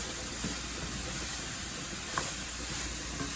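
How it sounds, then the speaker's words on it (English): Ground beef browns with vegetables in a pan for shepherd's pie, a constant close sizzle and hiss with a few faint stirring clicks. "And continue cooking until the meat is completely brown."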